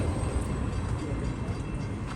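A Long Island Rail Road eastbound train arriving at Deer Park station in the evening, a steady broad rumble holding at an even level throughout with no voices.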